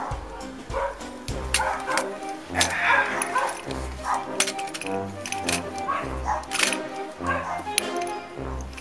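Sharp, repeated barks from a dog at a car wash ring out over several seconds, mixed with a person talking and clattering background activity.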